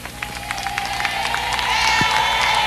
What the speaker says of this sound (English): the crowd is now cheering vociferously, cheering the pontiff who has been awaited for so long